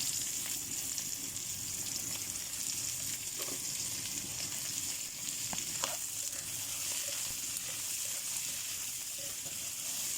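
Shrimp frying in a pan, a steady close hiss and sizzle with occasional light stirring knocks and clinks.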